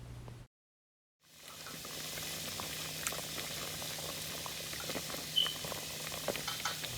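Pasta boiling in a pot of water for chicken carbonara, a steady close bubbling and rolling boil that starts after a brief silence and continues alone, with a few louder pops.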